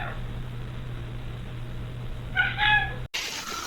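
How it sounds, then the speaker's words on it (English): A cat meows in a bathroom, several short tonal cries clustered near the end over a steady hum, followed by a brief dropout and a burst of broadband noise. "Why are you meowing in the bathroom?"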